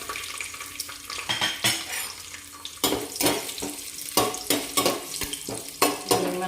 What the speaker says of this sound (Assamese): তাৰপিছত আকৌ দিম কাজু, অকণমান ৰঙা হোৱাকৈ দিম আৰু তাৰপিছত আকৌ দিম কিচমিচকেইটা